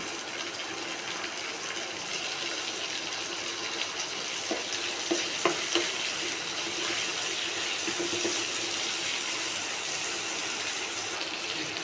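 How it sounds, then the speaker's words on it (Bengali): Onion and chopped tomato fry in a pan for a cabbage and paneer curry, a soft continuous sizzle with a brief cluster of stirring scrapes partway through. "কুচিয়ে রাখা টমেটো দিয়ে দিব টমেটোটাও আমি নাড়াচাড়ো করে কিছুক্ষণ ভেজে নেব"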